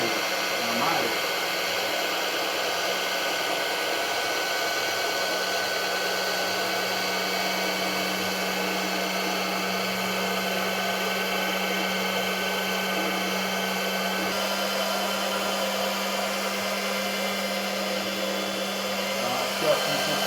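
A disc cutting machine slicing through a stack of soft knit fabric, a continuous electric motor whine with a steady hum holding unbroken for the whole stretch.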